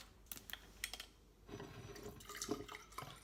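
Water poured into a container to make iced tea produces a faint, close splashing trickle with a few clicks and knocks, quiet and without speech.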